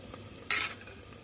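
Onions fry in a pan under a quiet background sizzle, broken by one short scrape as they are stirred.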